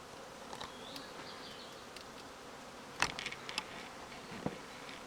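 A honeybee swarm being shaken into a hive during recovery from a tree produces a faint, steady buzz under a quiet outdoor background, with a few brief clicks and knocks.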